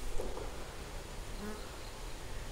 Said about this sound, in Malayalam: ഇപ്പം ഇങ്ങനെ ഈച്ച കൂടിയിരിക്കുന്നിടത്ത് ചിലപ്പം റാണിയീച്ച ഉണ്ടാവും